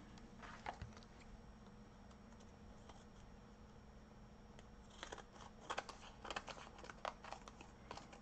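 Scissors snip through paper ruffles, quiet close cuts in uneven bursts, sparse at first then quicker clusters of crisp snips with light paper rustling.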